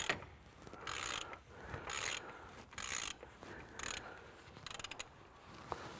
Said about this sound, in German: Jetzt lösen wir den Deckel vom Ölfiltergehäuse.